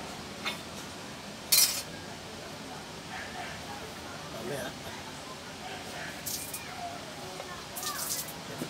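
A pot lid clinks and clatters a few times while pinakbet cooks in a home kitchen. The sharp metallic knocks are brief and spaced out over low background noise, with a voice talking softly nearby.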